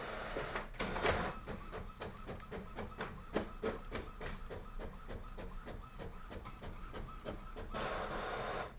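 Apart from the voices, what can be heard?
Epson WF-4820 printer printing a document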